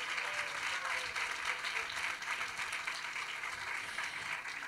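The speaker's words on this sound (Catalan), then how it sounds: "Un aplaudiment per tots d'ells." An audience applauds the finalists at a student awards ceremony, a continuous even wash of many people clapping, moderately loud and sustained throughout.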